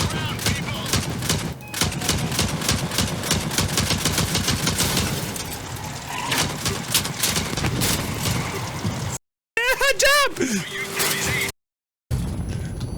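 Dense, continuous automatic gunfire from a first-person shooter game played on a Gainward GT 640 graphics card rattles loudly and steadily for about nine seconds, followed by brief silences and a short warbling sound effect.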